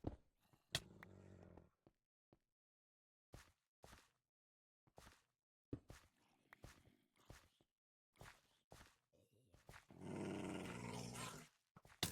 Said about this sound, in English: Why has the dog been freaking out this whole time?